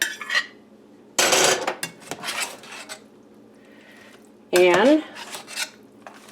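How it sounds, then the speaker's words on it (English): Noodles are stirred and folded in a dish for a cordon bleu chicken casserole cooked on a woodstove, with bursts of utensil scraping and clinking against the dish separated by quiet pauses and a brief spoken word. "mix my noodles"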